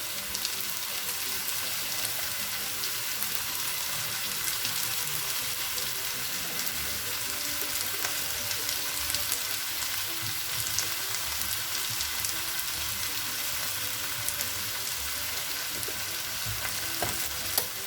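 Potato pieces fry in a pan with salt and turmeric powder, a steady, fairly soft sizzle running evenly throughout with small crackles and no talking.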